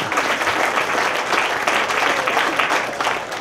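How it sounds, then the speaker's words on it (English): Sustained crowd applause at an outdoor community park dedication, a steady wash of many hands clapping for the Soccer Association, fairly loud and continuous throughout. "So a big round of applause for the Soccer Association"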